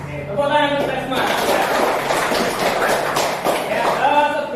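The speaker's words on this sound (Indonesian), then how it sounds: "Tepuk tangan untuk kita semua." A classroom of children claps hands together for a few seconds in a dense burst, with young voices calling out just before and after.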